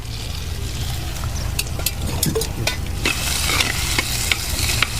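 Chilies, tamarind, garlic and tomatoes fry in oil in a kadai with a close, busy sizzle and repeated clinking scrapes of a stirring spoon that grow louder toward the end, with no voices.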